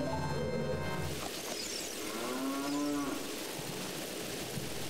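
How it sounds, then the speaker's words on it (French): A sea cow in Zelda: Ocarina of Time Master Quest lets out a long, wavering moo over a steady wash of game ambience and music, clear and prominent. "Donc la vache dans l'eau, hein, qui se sent bien, la vache marine."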